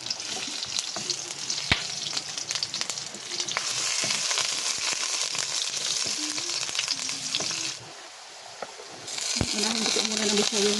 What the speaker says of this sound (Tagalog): Gigisa po ako ng bawang at sibuyas